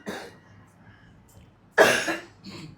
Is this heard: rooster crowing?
no